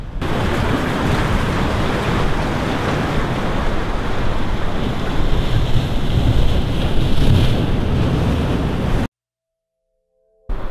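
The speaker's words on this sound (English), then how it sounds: "I can see the waves crashing." Ocean waves crash steadily against rocks near the Fukushima power plant in Japan, a loud continuous roar of surf mixed with wind buffeting the microphone, cutting to silence near the end.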